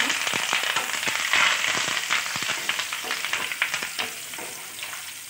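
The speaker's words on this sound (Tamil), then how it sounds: "எண்ணெய் காஞ்சிச்சு, அடுத்து சோம்பு போட்டுக்கலாம்." Fennel seeds and curry leaves sizzle in hot oil, a dense steady crackle with sharp pops throughout, close and loud with no voices.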